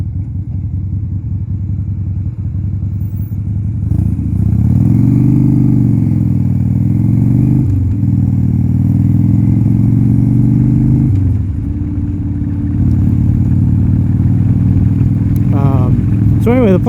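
A 1987 Harley-Davidson FXRC motorcycle engine rumbles at close range, revving up around the middle and then settling back to a steady, loud idle, with a short rise in pitch near the end.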